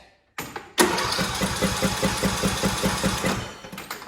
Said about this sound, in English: it cranks, but it won't start